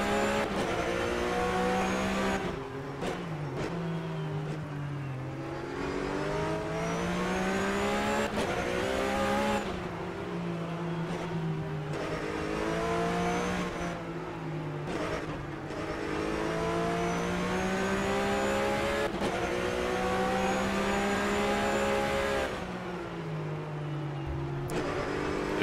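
Porsche Supercup race car heard onboard at speed on a circuit in Hungary, a loud sustained engine howl rising and falling through repeated upshifts and braking downshifts for the whole lap section, with no talk.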